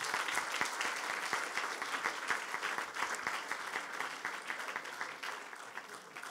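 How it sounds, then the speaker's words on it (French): At an award ceremony for an engineer-inventor prize, a seated audience gives steady, moderately distant applause, many hands clapping evenly for several seconds with individual claps standing out. "Vous pouvez les applaudir."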